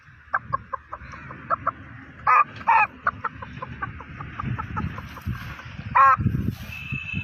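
Chickens cluck in a farmyard in Kudal, Konkan, with quick repeated clucks and a few louder squawks over a low outdoor background, no talk.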